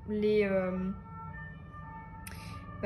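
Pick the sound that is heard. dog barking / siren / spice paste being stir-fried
siren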